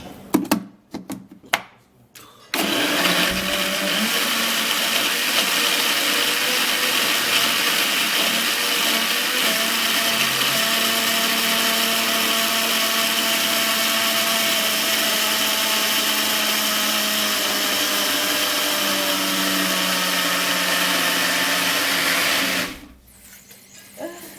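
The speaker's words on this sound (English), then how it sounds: "And I'll blend it." A blender whirs steadily for about twenty seconds while blending ingredients with water, its motor a dense, loud whine, with brief clatters before it starts and a quick wind-down at the end.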